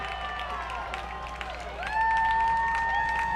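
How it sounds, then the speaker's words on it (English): A crowd at a high school football game between the Montgomery Cougars and the Hopewell Valley Bulldogs at Ackerson Field. Distant crowd noise swells louder partway through, and sustained horn-like tones join the roar. "The crowd getting loud underneath us, Fish."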